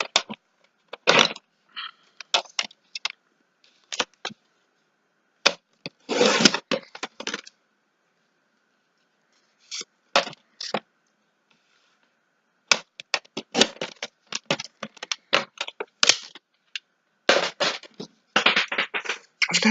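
A blade cuts pieces of board in short bursts of scraping and crunching, close and fairly loud, separated by quiet pauses, with no talking.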